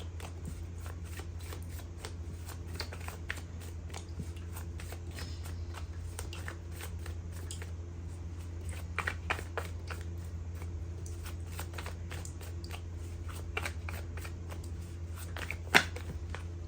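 A deck of playing cards being shuffled over and over, crisp riffling and flicking bursts repeating through the whole stretch over a steady low hum, close and fairly quiet, with no one speaking.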